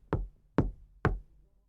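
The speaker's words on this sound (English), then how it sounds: "He knocked softly on the door" Three soft knocks on a door, evenly spaced about half a second apart, close and clear against silence, each a dull thud with a short fading decay.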